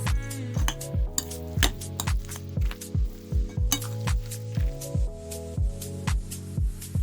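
Utensils clink against a bowl while stewed carrots, cabbage, croutons and mayonnaise are mixed into a salad with sausage, giving steady repeated scraping and tapping strokes close by, with no talking.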